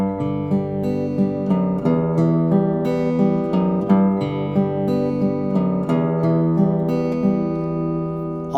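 Fingerpicked guitar accompaniment, played one string higher over an unchanged bass line, with a steady flowing arpeggio pattern of plucked notes ringing close and clear, no voices.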